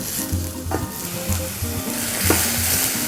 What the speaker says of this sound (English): I'm going to saute the onions now.